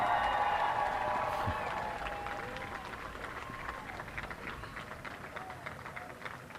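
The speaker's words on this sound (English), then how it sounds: "Lots of applause on the ground here" Applause at Virgin Galactic mission control during the Unity 22 spaceflight carrying Richard Branson: dense, steady clapping from a sizeable group, loud at first and then continuing slightly softer as a rushing wash of many hands, mixed with crowd noise.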